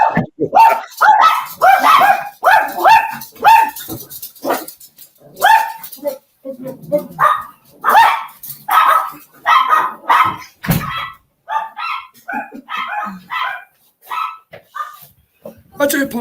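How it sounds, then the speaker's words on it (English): Several dogs bark repeatedly and loudly in a busy, overlapping flurry of short yaps and woofs, close by and persistent throughout, with brief pauses between bursts. "Sorry, my dogs."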